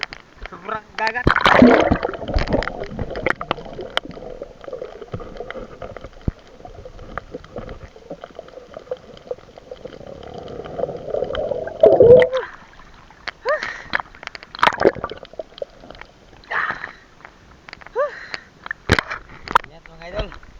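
Sea water splashes and gurgles in bursts as strong waves move around a person gathering seashells offshore, close by and uneven, with people talking in between.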